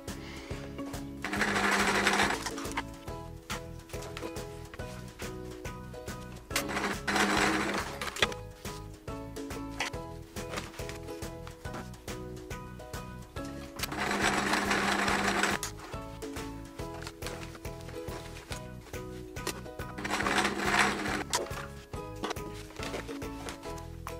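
A sewing machine stitches quilt patchwork pieces together in steady, rapid mechanical runs, pausing briefly between seams and starting up again, close and clear with no talking.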